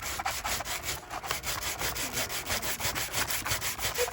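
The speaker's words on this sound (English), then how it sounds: "You just gonna have to sand on it a little bit." Steady back-and-forth sanding strokes with a sanding block rasp against a plastic knob, close and rhythmic, about four strokes per second with no voices.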